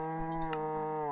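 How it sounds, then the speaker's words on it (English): A single drawn-out Minecraft cow moo, loud and close, with a rich harmonic tone that holds steady for about a second before trailing off, alongside faint keyboard clicks and no talking. "And there's a cow in my adder"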